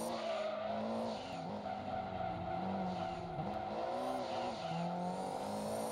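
Cerumo Supra race car in the Gran Turismo 2 video game, its engine droning steadily with shifting pitch and brief tire squeal as it runs through a race.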